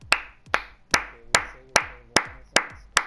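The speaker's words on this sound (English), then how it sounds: "Let's give ourselves a round of applause." A small group claps in an even rhythm, about eight sharp claps spaced roughly half a second apart, close and loud, with no talking over it.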